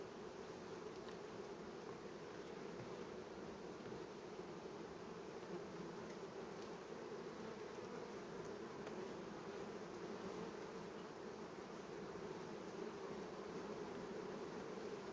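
Honeybees at a hive, clustered in a ball, give off a steady, dense droning buzz that holds at an even level for the whole stretch, with no voices.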